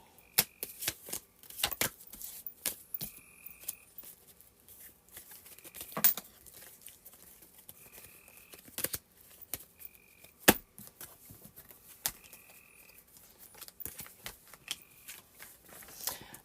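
Tarot cards being shuffled and drawn, a run of crisp riffling flicks and soft slaps that come close together in irregular bursts, with brief pauses between them and no talking.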